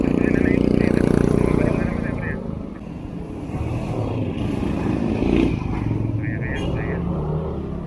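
A motorcycle engine drones and shifts pitch as it rides along, with other traffic passing and people talking over it.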